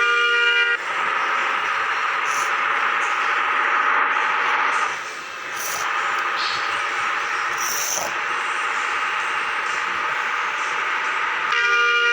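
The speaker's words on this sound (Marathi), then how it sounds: "हॉर्न बघ कसा आहे." A loud, sustained vehicle horn in a driving video game blares almost continuously, briefly dipping midway, with a few sharp higher toots over it.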